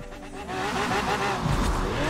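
Quartz Regalia V12 engine in the racing video game Forza Horizon 4, a steady loud droning roar with a rising, strained tone, heard up close and continuous throughout.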